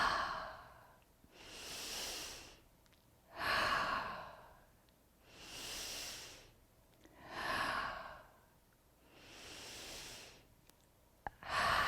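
Slow, deep breathing in through the nose and out through the mouth during a daily energy routine, five long, soft, evenly spaced breaths heard alone and close up in a quiet room.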